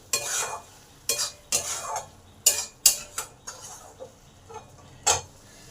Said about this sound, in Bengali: এবার ভালো করে সবকিছু একটু নেড়ে দিই